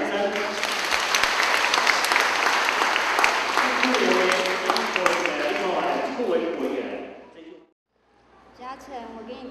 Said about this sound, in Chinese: 好，我们给他掌声。